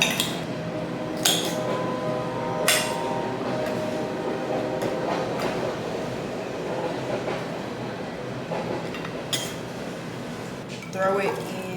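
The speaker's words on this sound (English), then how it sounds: "The train coming by," A train rolls by nearby in a steady, rumbling wash that persists throughout, joined by kitchen clatter of dishes and pans while someone cooks lunch.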